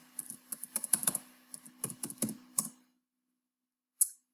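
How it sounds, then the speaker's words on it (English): Fingers tap a computer keyboard entering a password, a quick run of close, crisp keystrokes in two short bursts, then a pause and a single final key press, with no voices. "Now I'm going to type in the password for the hidden folder."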